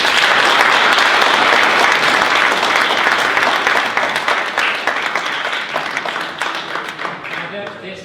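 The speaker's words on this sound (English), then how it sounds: "Thank you. Round of applause." Audience applause after a 20-minute talk at an Internet of Things event, dense, steady clapping from a crowd that holds loud for several seconds and then slowly thins and fades toward the end.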